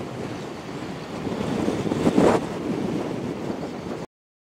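Headwind buffets the microphone while riding a Royal Alloy GP 300 S scooter uphill, a continuous loud rushing roar that swells briefly midway before cutting off abruptly.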